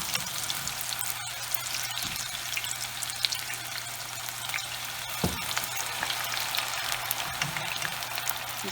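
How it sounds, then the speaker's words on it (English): Onion strings frying in oil held at about 365 to 370 degrees, a steady close crackling sizzle that runs unbroken, with a low hum underneath and a few sharper pops along the way. "Time to fry us some onion strings."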